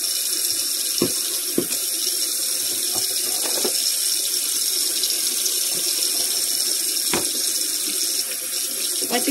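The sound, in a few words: running tap water while wiping under dish drain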